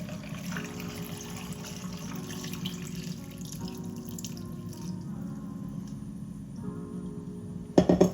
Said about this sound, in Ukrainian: Та заливаємо наші помідори.